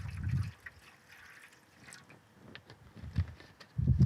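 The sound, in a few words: distilled water poured into a photo tray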